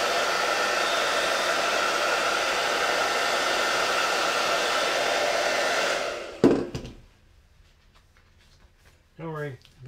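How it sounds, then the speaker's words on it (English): A hair dryer on low blows steadily over chalk paste on a silkscreen for about six seconds, then cuts off, leaving quiet handling noises and brief speech. "sometimes we do a little hair dryer just to make sure it's not wet at all"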